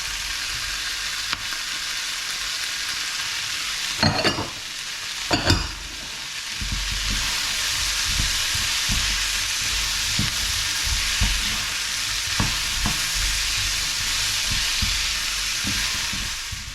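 Spring onions frying in a pan ahead of noodles, giving a loud, continuous close sizzle with a few sharp clatters early on, then steady crackling with faint intermittent taps.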